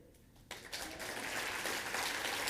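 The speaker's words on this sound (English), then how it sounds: "I like the applause" A Rotary gathering audience breaks into applause after a short quiet lead-in, the clapping swelling quickly and holding as a dense, steady roar of many hands.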